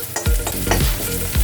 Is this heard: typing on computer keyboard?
no